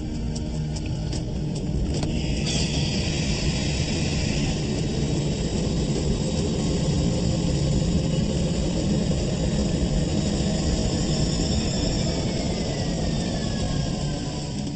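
A jet engine at 35% power swallowing water during a test, a steady loud broadband roar with a high whine, continuous and alone for the whole stretch.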